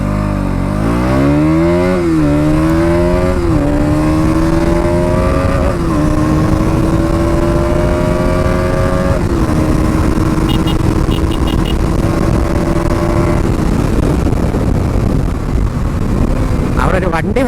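A KTM Duke 200 BS6 motorcycle pulls away and accelerates through several gears. The engine climbs in pitch and drops at each shift, loud and close over steady wind rush, with a voice talking along the way.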